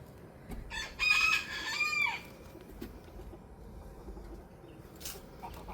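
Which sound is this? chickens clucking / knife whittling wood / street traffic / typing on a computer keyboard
chickens clucking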